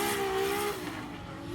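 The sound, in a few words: Formula Drift car doing a burnout in the burnout box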